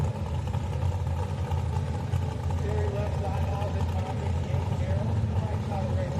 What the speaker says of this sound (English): Cars are halfway down the track and they're already doing another burnout